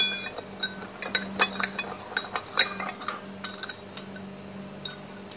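A spoon clinks repeatedly against a bowl while stirring chicken salad ingredients with a little water, producing irregular bright taps and scrapes over a faint steady hum.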